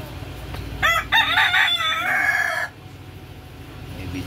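A rooster crows once, loud and close, a drawn-out cock-a-doodle-doo rising then trailing off over quiet rural background in Gumaca, Quezon Province, Philippines.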